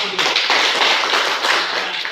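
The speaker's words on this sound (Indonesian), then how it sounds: "tepuk tangan untuk kelompok 1 dulu" A classroom audience claps for the first student group after its presentation, a dense, steady patter of hands filling the short moment.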